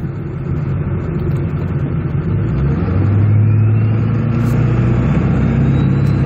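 A Ford 7.3 Powerstroke diesel truck fitted with an aFe hot-side intercooler pipe drives along, heard from inside the cab as a loud, steady low engine drone that swells slightly as it accelerates, with no talk.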